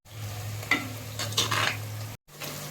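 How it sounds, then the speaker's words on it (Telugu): Sliced onions with a pinch of salt fry in oil in a pan for an Andhra fish curry, making a steady sizzle with stirring scrapes. A brief gap of silence interrupts the sound near the end. "గోల్డెన్ కలర్ వచ్చినంత వరకు వేయించుకుందాం"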